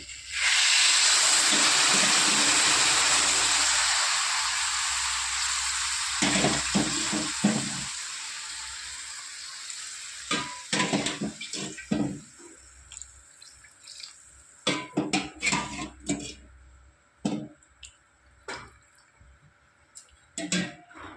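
Water is poured into rice and mung dal khichuri in a pot, a steady broad rush for several seconds that gives way to scattered drips, splashes and clinks of a bowl and pot as the pouring ends.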